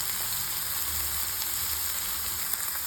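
Medium onions sizzling in a pan with salt, a soft steady crackle and hiss throughout, fairly quiet and without talk.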